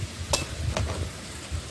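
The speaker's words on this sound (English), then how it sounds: "We're chopping some coconuts" A knife strikes jelly coconuts outdoors in a backyard: two sharp, quick chops, close by, over faint background noise.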